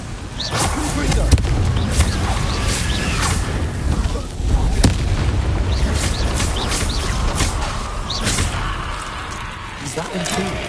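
Repeated Confringo fire spell blasts in Hogwarts Legacy combat, loud booming bursts and crackling impacts at irregular intervals over a dense rumbling background, with a voice speaking at times.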